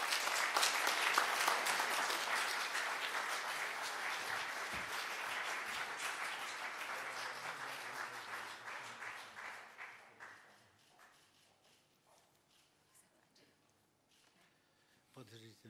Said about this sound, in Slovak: Excelencie, dámy a páni, jeden potlesk pre Jána Zoričáka.